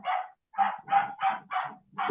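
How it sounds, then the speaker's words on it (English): A dog barks six times in a steady, evenly spaced rhythm, each bark loud and close, with short silent gaps between them. "The dog barking."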